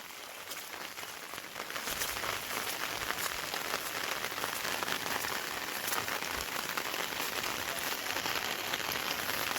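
Steady rain pattering on a surface, a dense, continuous hiss of drops that swells after the first moments and holds evenly throughout.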